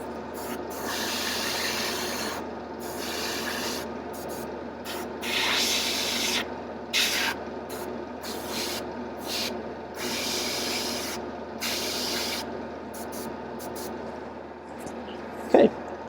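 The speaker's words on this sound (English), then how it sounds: "that is the airbrush" An airbrush sprays paint during a commission painting session, giving a soft, continuous airy hiss in repeated short bursts with brief pauses between them, close up and fairly quiet.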